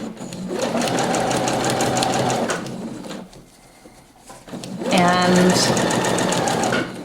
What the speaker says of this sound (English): We're going to sew across there with that tucked over